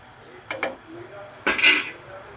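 A lid is set on a cooking pot while pointed gourd and prawns cook, giving two quick metallic clinks followed by a louder clatter, all close by.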